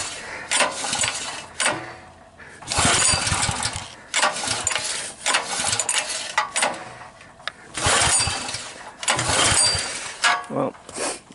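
Sportsman 4KW dual fuel generator pulled by its starter cord several times, each pull giving a loud rasping burst of a few seconds separated by brief pauses, the engine sputtering without settling into a steady run.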